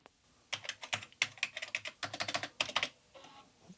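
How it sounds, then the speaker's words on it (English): Fingers rattle across the keys of an Amiga 1200 computer keyboard recovered after flood damage, in quick irregular bursts of clicky keystrokes, close and fairly quiet, with no talking. "I hope the keyboard still works."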